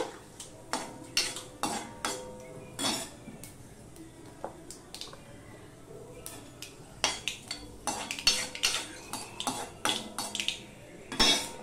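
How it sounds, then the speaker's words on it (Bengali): Diced potatoes tumble into a pan of panch phoron for a vegetarian drumstick curry, bringing a busy run of sharp metallic clinks and scrapes from spoon and pan, close and fairly loud, with only a faint sizzle underneath. "এবার আমি আলুটা দিয়ে দিচ্ছি। 5 ফোড়নটা হয়ে গেছে।"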